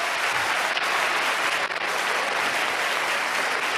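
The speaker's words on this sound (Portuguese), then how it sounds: "E aqueles que creem, aplaudam o Senhor com muita força" Church congregation applauding hard, a dense, steady wash of many hands clapping at once, loud and continuous with no voices over it.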